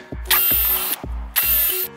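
A power drill whirs in two bursts, each spinning up, holding steady, then winding down, close and loud, while building a wooden privacy fence.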